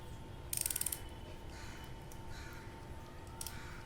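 Ratchet spanner from a generic 46-piece tool kit gives a quick burst of close, sharp clicks as it turns, followed by quieter handling noise and a few faint later clicks.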